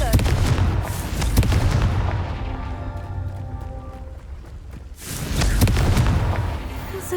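Confringo blasting spell going off in Hogwarts Legacy, a loud booming burst at the start that fades into a lingering magical hum, then another heavy blast rumbling in near the end.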